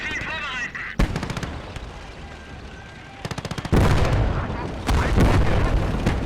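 Battle in the Gates of Hell Ostfront game: a Marder tank destroyer's cannon booms amid rapid machine-gun bursts and heavy explosions, loud and layered in repeated volleys.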